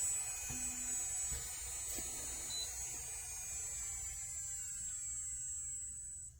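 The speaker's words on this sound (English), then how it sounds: "This is really nice nail drill." An ANBEISTEE 45,000 RPM electric nail drill running alone at high speed, a thin steady high-pitched whine with faint pitch shifts and a low motor hum beneath, quiet and close.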